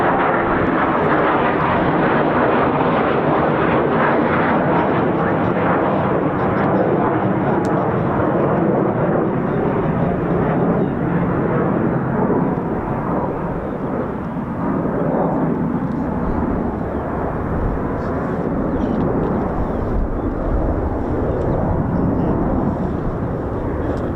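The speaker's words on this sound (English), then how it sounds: "More F-15s, here we go." US Air Force F-15 fighter jets of the 48th Fighter Wing take off at an RAF base with a loud, sustained roaring engine rumble that fills the whole stretch, steady and close with no talk.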